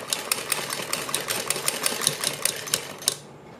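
A sewing machine runs in a quick, even stitching rhythm along a folded fabric neck strip on a garment, close and clear, before stopping abruptly near the end.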